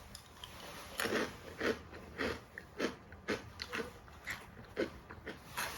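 Someone bites and chews a sandwich close to the microphone, with soft, rhythmic crunching and mouth sounds repeating roughly every half second.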